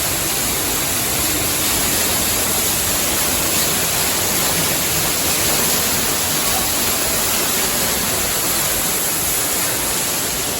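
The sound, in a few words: waterfall at Epcot Canada pavilion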